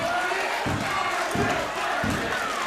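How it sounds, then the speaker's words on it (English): Wrestling crowd at a tag team championship match cheering and shouting continuously, a loud sustained roar with rhythmic surges as fans urge a wrestler to make the tag. "The crowd begging the Crusader to make his way and get the tag."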